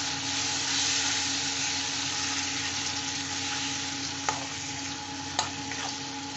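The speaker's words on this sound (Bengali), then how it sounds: "এবার আমি এই কচু শাকটা দিয়ে কষে নিচ্ছি" Taro leaves stir-frying with spices in a pan: a steady, close sizzle that holds level throughout, with a couple of sharp clicks from a spatula against the pan.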